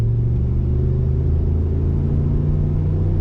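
A 2020 Ford F-250 Tremor Super Duty pickup rolls on the throttle, a loud, close, deep engine rumble with steady low harmonics holding throughout, no voices.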